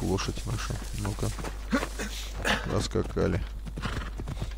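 Horse hooves clip-clop along with an occasional whinny in Assassin's Creed Odyssey, heard under someone talking.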